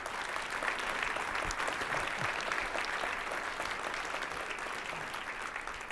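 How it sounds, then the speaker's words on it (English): A campus launch-event audience applauds two strategic planning co-chairs with a continuous wash of many hands clapping at moderate volume, fairly distant and unbroken. "How about a round of applause for the 2 of them?"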